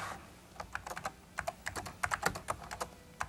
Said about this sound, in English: I can simply add something very easily by just clicking here and typing in whatever I want